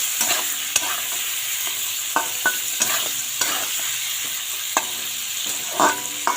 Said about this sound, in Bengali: এখন এটা নাড়িয়ে নেব